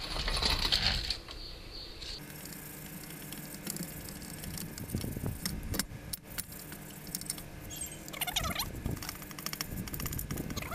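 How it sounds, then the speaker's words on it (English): A hand wire brush scrubs built-up grime off a car engine's bellhousing. The scratchy, gritty strokes and metallic rattles are close and continuous, with no talking. "We'll start off using a regular wire brush just to get some of the gunk off of it."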